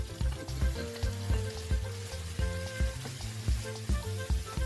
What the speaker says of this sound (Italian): Facciamo soffriggere un po' leggermente